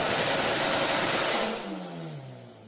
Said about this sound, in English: That's the Evo on the dyno